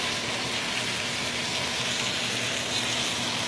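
A porterhouse steak sizzles in a frying pan with a steady, even hiss and crackle that holds at the same level throughout, close by, with no voices.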